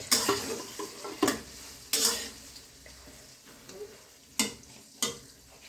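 Garlic paste frying in oil for a sun-dried pickle, with a low sizzle under sharp scrapes and clinks of a spoon against the pot at irregular intervals, close by.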